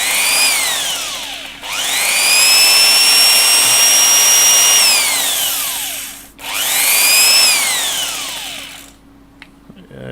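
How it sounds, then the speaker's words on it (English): A power sander working on printed circuit boards, running in two long whining passes that rise in pitch, hold, then wind down with a pause between, loud and close. "Excuse me if I just sand them down."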